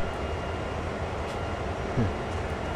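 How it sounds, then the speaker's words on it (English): A train in the Train Sim World video game, a steady low rumble and hum of rolling stock held at an even level, with a brief low tonal squeal near the end. "So here's my train."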